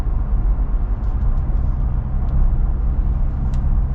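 A 2025 Jeep Wrangler Rubicon soft top with the 2.0 engine cruising, a loud steady low rumble of engine and road noise heard from inside the cabin with no talking.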